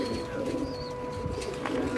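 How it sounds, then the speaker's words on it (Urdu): A champion pigeon coos softly on a rooftop, giving a few low, throaty murmurs over faint background ambience. "جی یہ ان کی چیمپئن کبوتر ہے"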